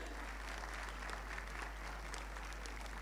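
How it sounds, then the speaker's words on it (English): A crowd at a Karachi conference session claps in a steady, dense round of applause heard at moderate distance, with a constant low hum underneath. "let's give them a big round of applause, ladies and gentlemen."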